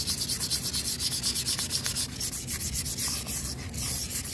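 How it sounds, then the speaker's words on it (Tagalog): Rapid back-and-forth sandpaper scrubbing on a Yamaha Aerox scooter's CVT clutch bell, a steady rhythmic rasp close to the microphone with no talking. "lihain natin konti yung bell."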